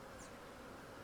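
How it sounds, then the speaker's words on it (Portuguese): Honeybees being smoked while a hive is moved into a new box make a faint, steady buzzing hum that sounds close but quiet, with no one talking. "e fumaciando as abelhas"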